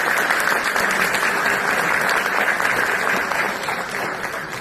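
Audience at a university alumni banquet clapping loudly and continuously, a dense wash of applause that tapers slightly toward the end.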